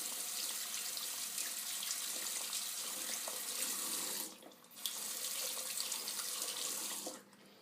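Tap water streams steadily into a sink while a makeup brush used only for eyes is wetted under it, with a short pause in the flow midway before it resumes.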